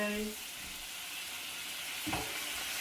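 Vietnamese chicken curry sizzles and fries in a pan while it is stirred, a steady close hiss with a brief scrape of the spoon near the end and no talking.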